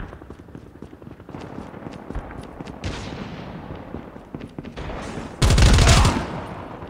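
Rapid automatic gunfire from an extended-magazine gun in the shooter game Crossfire crackles in quick bursts, ending in a louder, denser volley of close shots over a continuous game soundscape.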